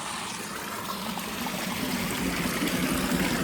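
Water flows through a small channel beneath wood, a steady close trickle and gurgle that grows slightly louder toward the end, with no speech.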